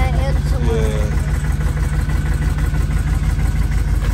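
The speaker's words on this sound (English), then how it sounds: "Y'all hear that exhaust right there?" A 1989 Chevy Silverado's 350 V8 exhaust idles loud and close, a continuous low rumble with a steady pulsing throb throughout.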